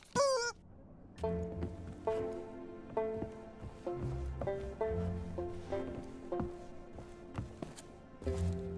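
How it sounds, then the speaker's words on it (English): Squeaky honking of a rubber chicken with a pulley in the Sea of Thieves video game: a rapid squeal at first, then a series of separate, evenly spaced nasal honks, fairly loud and close with no talk. "That's the rubber chicken with a pulley in the middle."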